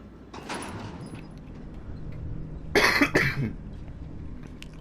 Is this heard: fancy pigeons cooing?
no